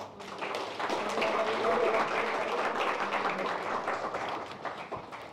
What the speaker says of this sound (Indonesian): boleh berikan tepuk tangan yang meriah